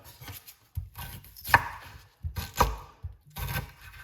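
Knife chopping fresh ginger on a cutting board: three short bursts of quick, close, crisp chops separated by brief pauses.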